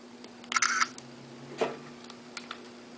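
Sony DSC-T1 digital camera taking a picture: a short electronic beep and whir followed by a single crisp shutter click, close and quiet, with no talk.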